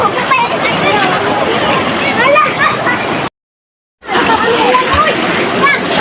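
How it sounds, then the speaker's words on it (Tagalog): People splash and wade in a river pool, with steady churning water noise and a babble of voices throughout, cut by a brief total dropout before the splashing resumes. "So tingnan natin guys yung mga nagtatampisaw dito."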